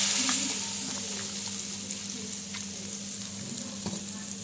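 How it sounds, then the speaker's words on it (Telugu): Hot oil tempering poured over garlic in a bitter gourd pickle chutney hisses into a strong, steady sizzle that starts loudest and settles into a continuous crackle with small pops, close and alone. "వెల్లుల్లిపాయ మీద ఈ తాలింపు పోసేయండి అండి."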